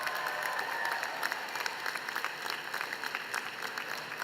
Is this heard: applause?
yes